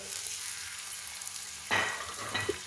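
Onions sizzle in about 250 g of oil in a kadai, a steady broadband frying hiss, with a louder burst of sizzling and stirring as more goes into the hot pan near the end.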